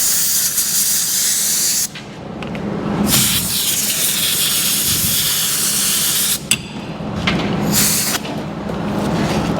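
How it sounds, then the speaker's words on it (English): Compressed air blasts through a workshop blowout nozzle in loud, harsh hissing bursts, with a short pause near the start and brief breaks before the spray resumes, close and dominant throughout. "Just a little bit spray."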